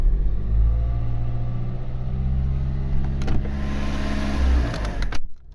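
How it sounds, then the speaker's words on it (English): A Renault Dacia 1.5 dCi diesel engine with a cold misfire runs steadily close by, a loud low rumble with an uneven throb and a few sharp clicks near the end, with no talking. "Look how the car is running now."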